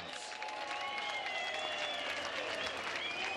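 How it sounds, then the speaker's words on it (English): A boxing arena crowd applauds after a 12-round bout: a broad, sustained roar of clapping with crowd noise beneath it, and faint voices at a distance. "let's give these two warriors a big round of applause"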